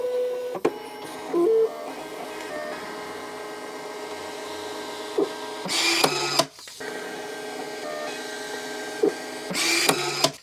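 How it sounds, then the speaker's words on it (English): An IDPRT A4 printer runs stress test pages, its steady mechanical whir and feed motor churning with a few sharp clicks and two louder bursts of rapid printing, near and alone. "we also added some stress test printer pages"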